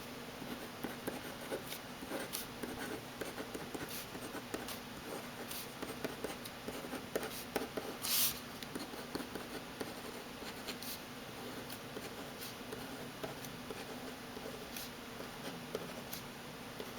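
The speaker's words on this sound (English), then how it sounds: "The pen does have a nice smooth feel to it as you're writing. It really flows along the paper very well." A Uni-Ball Vision Elite roller ball pen writes on paper in soft, close scratching strokes with small ticks and pauses, steady and quiet throughout, with no talk.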